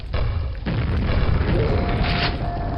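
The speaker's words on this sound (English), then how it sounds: "So go to town with the grenade launcher." Grenade launcher blasts in the video game Quake, loud, heavy booming explosions rolling into one another with a sharp new burst partway through, close and continuous, with no speech.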